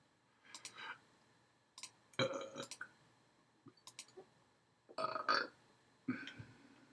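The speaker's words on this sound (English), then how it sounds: "Burped." Several separate burps at close range, short belching bursts with quiet gaps between them, no talking over them.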